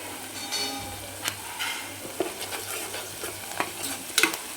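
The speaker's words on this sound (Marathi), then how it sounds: "त्याच्यानंतर आपल्याला कढीपत्ता टाकून घ्यायचा आहे याच्यामध्ये" Curry leaves hit hot oil with onions in a pan for a Marathwada-style brinjal and potato curry, giving a lively sizzle with repeated spoon clacks and scrapes from stirring, close and fairly loud, several sharp taps clustering near the end.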